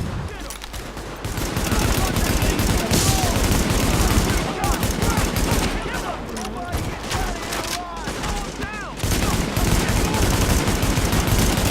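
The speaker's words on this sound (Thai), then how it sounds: "ยิงกันสนั่นเลยอะ" Heavy gunfire in Tom Clancy's The Division on a city street: dense, continuous bursts of automatic shots and clattering rounds, loud and close, with brief lulls and players talking over the din.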